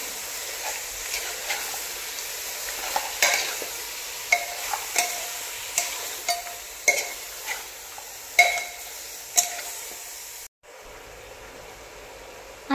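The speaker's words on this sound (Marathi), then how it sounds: "जे आपण मीठ आणि हळद घातली आहे छान असं मिक्स करून घेऊया।" A spoon stirs mutton head curry seasoned with salt and turmeric in a pan, a faint sizzle running underneath while sharp scrapes and knocks against the metal repeat at a steady rhythm, close and clear without speech.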